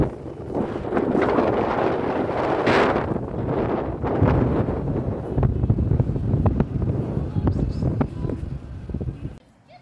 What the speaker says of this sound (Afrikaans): Maar die wind waai te veel.